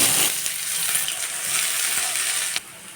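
Onions sizzle and crackle steadily in hot oil for chicken kosha, browning to red. The bright, close frying hiss continues throughout with a faint stir near the end.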